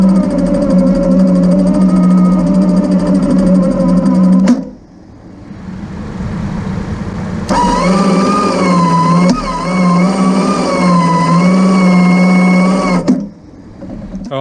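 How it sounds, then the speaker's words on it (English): Electric winch motor whining steadily under load, with a loud near drone that stops briefly and then resumes with a wavering pitch, heard alone without talk. "I'll load the winch up to what I deem's pretty well safe on 12, and then do the same on 24."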